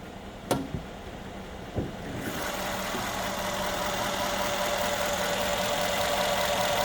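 A 4.7-litre V8 in a 2014 Mercedes GL 450 SUV idles with a steady, even mechanical hum that rises slightly after a couple of sharp clicks near the start.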